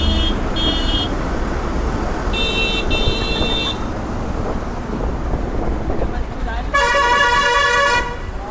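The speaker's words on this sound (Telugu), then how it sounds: "అది చూడండి ఎంత ఉందో ట్రాఫిక్" Heavy road traffic roars under wind buffeting while car and bus horns blare in several separate bursts, some short double toots and one longer, louder honk near the end.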